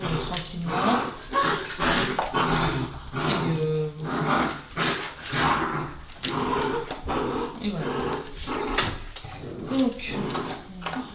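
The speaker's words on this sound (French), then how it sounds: "comme vous entendez, j'ai des chiens, j'en ai 3 à la maison" Several pet dogs at home whimper and give short barks and yips, fairly close, mixed with someone talking over them.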